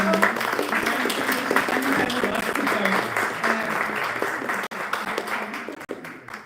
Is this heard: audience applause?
yes